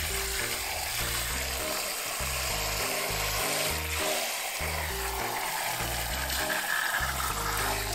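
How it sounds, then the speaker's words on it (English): Running water rinsing out a butchered chicken: a steady hiss of flowing water with sloshing and splashing, continuous and fairly close, with low thumping handling noises underneath. "rinse out the chicken."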